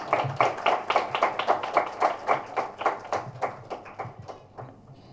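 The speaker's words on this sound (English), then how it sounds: "to the dais, please, with some good claps" Audience clapping at a health and medical awards ceremony, a small group's hand claps landing in a fairly regular rhythm, moderately loud and then thinning out toward the end.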